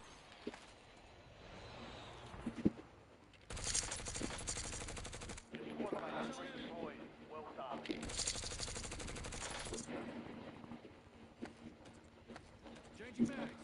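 Gunfire in the video game Warzone during a quad match, with two long, loud bursts of rapid automatic fire and scattered shots beneath steady talk between players.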